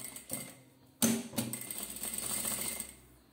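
A domestic sewing machine runs slowly around the curve of a fabric bandana bib, with quiet mechanical whirring and clicking in short bursts that pause and restart, close and fairly faint.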